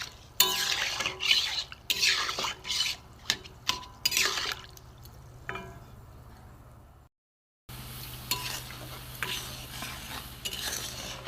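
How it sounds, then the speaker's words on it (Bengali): Hard jaggery and water are stirred in a pan on a gas stove, with busy scraping and knocking of the spoon and a soft bubbling hiss, up close. After a brief silence, a steadier, quieter simmer follows. "গ্যাসে কড়া বসিয়ে দিয়েছি, দিয়ে শক্ত গুড় দিয়ে দিয়েছি, এতে জলও দিয়েছি। দেখুন এটা গুলতে থাক"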